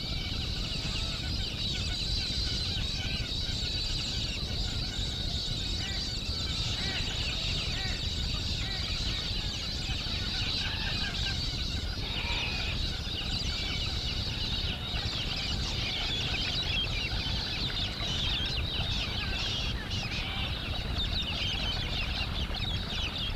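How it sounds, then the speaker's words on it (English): Cockatoos calling at a water hole in arid Australia, a dense, continuous chorus of screeches and chatter from many birds, steady and loud throughout with possible wingbeats mixed in. "Cockatoos are hardy and resilient birds, well designed to cope with the rigors of arid life."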